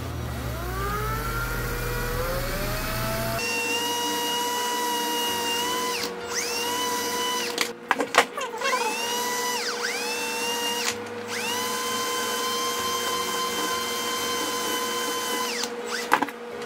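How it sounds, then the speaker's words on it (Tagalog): A power drill trims the edges of an acrylic display base for a One Piece Grandista figure. Its high motor whine runs almost continuously, with short pitch drops and brief stops as the bit bites into the plastic. No one speaks. "Gamit lang tayo ng drill"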